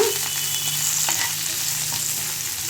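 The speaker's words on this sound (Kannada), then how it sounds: "1 ಬೆಳ್ಳುಳ್ಳಿ ಜಜ್ಕೊಂಡಿದ್ದೀನಿ, ಅದನ್ನು ಹಾಕ್ತಾಯಿದ್ದೀನಿ. ಸ್ವಲ್ಪ ಫ್ರೈ ಮಾಡ್ಕೊಳ್ಳೋಣ." Cut green chillies and crushed garlic frying in oil in a pan for chicken pepper dry, a close, continuous sizzle with light stirring, alone without talk.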